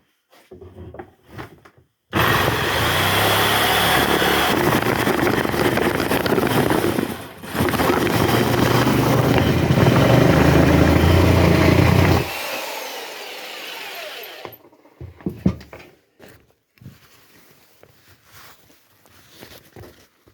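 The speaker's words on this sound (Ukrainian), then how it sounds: "А вібрація колосальна вийшла від лобзика" An electric jigsaw buzzes loudly in two long cutting bursts separated by a brief pause, vibrating heavily and cutting unevenly with a worn blade, its pitch dropping before stopping; scattered knocks and clatter follow.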